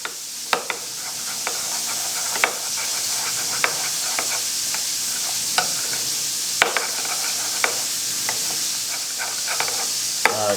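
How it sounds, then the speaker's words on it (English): Chipotle being mixed into a sauce over a constant loud hiss, with irregular clicks and taps of a utensil against the pan or bowl scattered throughout. "And a little chipotle. Just like that. We're just gonna mix this up."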